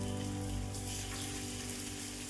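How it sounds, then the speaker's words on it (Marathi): Semolina and potato snacks frying in oil over a low flame, a steady, close hiss and sizzle of bubbling oil with no break. "छान अशी कमी गॅसवरती तळून घ्यायचे"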